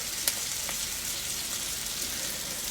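A hamburger steak frying in a pan gives a steady, close sizzle with a few sharp pops of spattering grease, and no one speaks over it.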